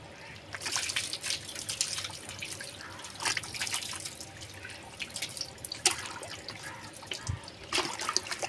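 Water trickling and splashing from a household tap in a home setting, soft and fairly faint, with irregular drips and pours and a low background hum.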